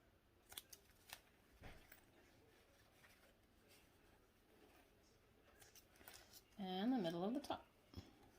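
Fabric is snipped with sewing scissors while a mini backpack is cut out, giving several short, quiet crisp cuts spread across the clip, then a louder, longer sequence of snips near the end.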